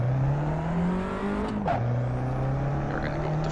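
Abarth 500 Esseesse engine in the Assetto Corsa racing game, a loud steady engine drone with a quick blip and pitch drop midway as it downshifts, then settling back to a steady hum.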